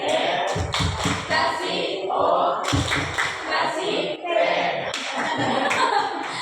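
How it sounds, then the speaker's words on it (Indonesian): Audience at an Indonesian school dissemination session performing the tepuk top clapping chant, rhythmic bursts of claps in groups with voices mixed in, repeated several times across the clip. "Oke, kita beri tepuk top."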